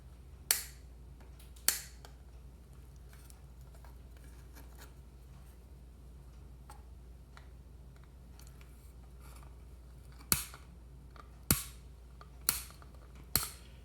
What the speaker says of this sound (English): now just have to trim these leads down